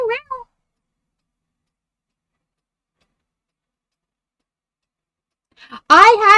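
A cat gives a short, clear meow, then after a long silence a person's voice imitates a meow up close.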